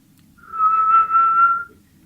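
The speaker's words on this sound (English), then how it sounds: "try just whistling in" One person whistles a single sustained, clear pitch for about a second, with a short dip midway, close and fairly loud against a quiet background.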